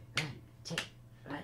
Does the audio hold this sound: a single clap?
yes